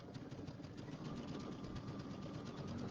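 A sewing machine stitches along the edge of a quilt strip, giving a dense, steady close whirring hum with a fast regular mechanical pulse and no speech.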